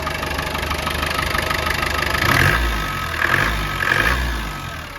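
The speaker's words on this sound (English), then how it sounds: "and real smooth running engine" A 1993 Land Rover Defender 90 with the 200Tdi diesel engine runs at a steady idle with a low, even rumble, swelling briefly three times as the throttle is blipped, close and clear with no talking.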